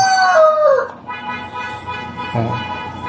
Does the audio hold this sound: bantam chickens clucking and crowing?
yes